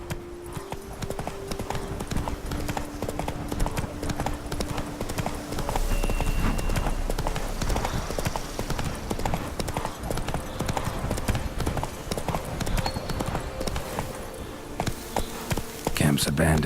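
Roach, a horse in The Witcher 3: Blood and Wine, galloping with steady, close clip-clop hoofbeats throughout, over a background of game music and buzzing insect ambience.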